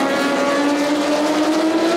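Race cars roar past on the track at the Daytona 24 Hours, a loud sustained engine drone with rising pitch from cars pushing through traffic.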